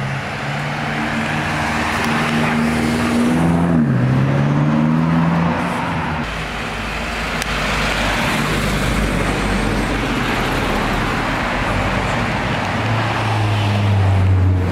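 A BMW M5 drives past on a street during morning car spotting, its engine note rising and shifting as it nears, then holding as a steady loud roar with road noise underneath.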